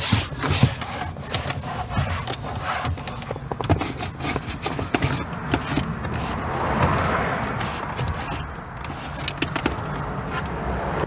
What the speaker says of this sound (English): After the chemical is applied, we're simply gonna wipe it down with a towel.